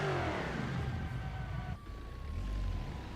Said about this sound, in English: Get the exhaust on this minivan.